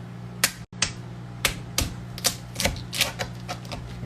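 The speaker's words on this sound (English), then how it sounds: "I'm actually going to try to cut these suckers in half." A knife cuts lobsters in half through the shell, giving a series of sharp, close cracking crunches in an irregular rhythm with a brief silent gap, and no talking over them.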